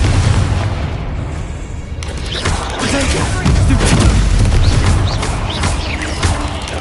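A Confringo spell explodes in the Hogwarts Legacy video game, giving a loud, sustained booming blast with crackling debris and rumble that continues for several seconds, thick and close, with other combat noise layered underneath.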